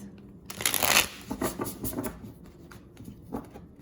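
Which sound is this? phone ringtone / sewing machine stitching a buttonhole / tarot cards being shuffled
tarot cards being shuffled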